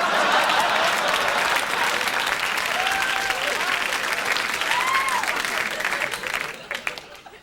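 A sustained burst of audience applause at a comedy show, dense and even clapping from a large crowd that holds steady and then tapers off near the end.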